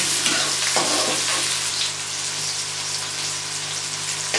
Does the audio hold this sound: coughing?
no